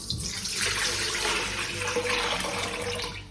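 Filtered water pours steadily for a batch of fermented pickle brine, a continuous close splashing rush with no talk.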